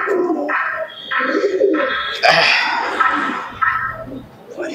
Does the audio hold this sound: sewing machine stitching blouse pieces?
no